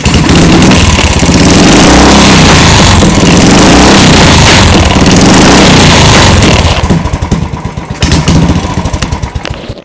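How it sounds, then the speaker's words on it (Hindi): Modified self-start motorcycle with a loud aftermarket silencer started and run at home, a continuous loud, throaty engine roar filling the clip, easing slightly near the end with uneven pulses. "मैं इसको एक बार चालू करके आपको दिखाता हूँ,"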